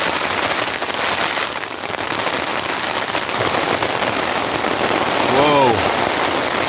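Heavy rain pounds steadily on a tent during a camping wind storm, a dense, continuous hiss that swells slightly near the end, with a brief voiced exclamation rising over it.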